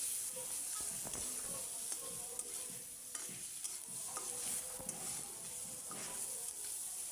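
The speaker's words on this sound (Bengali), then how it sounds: "হলুদ দিয়ে ভালো করে নাড়াচাড়া করে মিশাই নেব।" Onions with salt, chili and turmeric sizzle steadily in a frying pan while a spatula scrapes and stirs in repeated close strokes under the continuous frying hiss.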